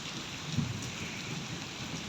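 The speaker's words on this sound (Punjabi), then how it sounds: "ਮੀਂਹ ਦੁਬਾਰਾ ਇੱਕ ਵਾਰੀ ਫੇਰ ਕਾਫੀ ਪੈ ਹਟਿਆ" Heavy rain pouring steadily outdoors in a broad, even hiss, with a brief low rumble early on and no voices.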